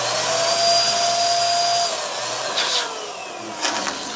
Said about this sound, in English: right now I am just using a hairdryer to get the balloons back looking like normal.